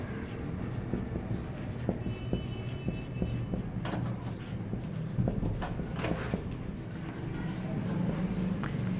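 Chalk or marker strokes on a board during a chemistry lecture on valency, a run of faint irregular taps and scratches over a steady low room hum, close and quiet.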